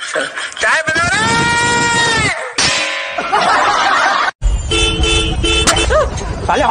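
Loud, sustained vehicle horn honks sound up close, mixed with raised voices and shrill cries.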